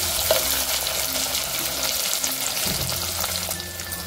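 A large onion, sliced lengthwise, sautés with curry leaves in a pan, giving a steady, close crackling sizzle with faint stirring underneath and no voices.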